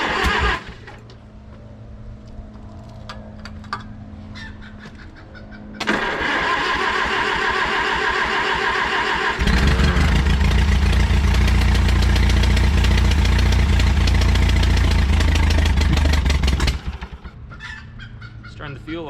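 An auctioned Oliver Super 55 tractor cranks with a quick ticking starter, then its engine catches and runs with a loud, steady rumble that rises in intensity before cutting off, with no talking.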